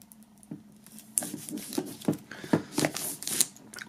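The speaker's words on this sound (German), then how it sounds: "bevor wir das Ganze starten, werden wir mal die Folie abmachen" Plastic foil wrap peeled off a black CD box set, a series of close crinkling and crackling tugs that grow busier and louder toward the end, with no talking.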